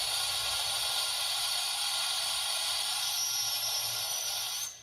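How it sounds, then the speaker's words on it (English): Steady, loud hissing from a Shay steam locomotive's pop valve on a TCS WOW sound decoder, a broad sizzling rush of steam lasting several seconds before it abruptly cuts off. "that's a pop valve going off, which is a pretty nice sounding pop valve. We can hear it kind of sizzling away."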